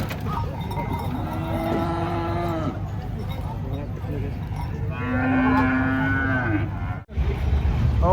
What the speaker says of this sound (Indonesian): Kita lihat penurunan sapi-sapinya.